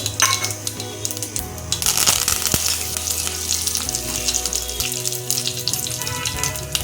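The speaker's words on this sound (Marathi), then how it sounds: "छान तडतडण्याचा आवाज येत आहे" Cumin seeds and curry leaves sizzle and crackle steadily in hot oil in a pan, a close, dense frying hiss with sharp pops and a few clinks of a utensil throughout.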